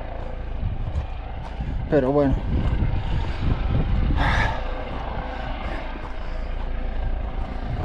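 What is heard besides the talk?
helicopter flying overhead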